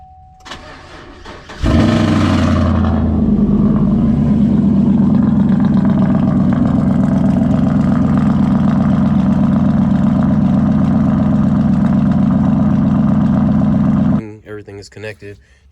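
Pickup truck engine, from a squatted F150 or Silverado, cranks and catches on a cold start, then settles into a loud, steady idle close by for about twelve seconds before shutting off.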